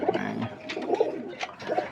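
Pigeons coo in a loft of maturing young birds turning dominant, soft repeated burbling calls rising and falling close by, several overlapping phrases across the moment with no voices.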